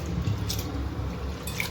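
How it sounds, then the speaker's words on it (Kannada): Soft splashing and dripping of water as something is rinsed by hand in a bowl until the water runs clean, quiet and close with a few small drips. "ಸೊ ಕ್ಲೀನ್ ನೀರು ಬರುವ ತನಕ ನಾನು ವಾಶ್ ಮಾಡ್ತೇನೆ"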